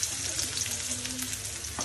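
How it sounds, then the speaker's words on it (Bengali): Onions dropped into already hot oil in a kadai, a steady close crackling sizzle with faint stirring scrapes, constant and unbroken. "কড়াই তেল দিয়ে দিলাম, আর তেল অলরেডি গরম হয়ে আছে। সো এটাতে দিব পেঁয়াজ"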